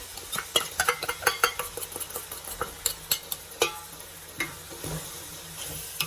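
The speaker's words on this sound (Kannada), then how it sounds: "ಮೊಸರು ಹಾಕ್ತಾ ಇದ್ದೀನಿ" Curd stirred into chicken frying for biryani, a busy run of sharp spoon-on-pot clatters and scrapes over a continuous sizzle, up close and without talk.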